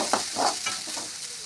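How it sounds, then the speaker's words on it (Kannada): Chopped onions frying in an oil tempering for North Karnataka style bitter gourd curry, a steady close sizzle with quick stirring scrapes in the pan, no voices. "ಉಳ್ಳಾಗಡ್ಡಿ ಎಲ್ಲ ಚೆನ್ನಾಗಿ ಫ್ರೈ ಮಾಡಿಕೊಳ್ಳಿರಿ ಒಗ್ಗರಣೆ ಒಳಗೆ"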